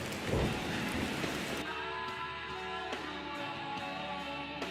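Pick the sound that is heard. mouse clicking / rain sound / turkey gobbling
rain sound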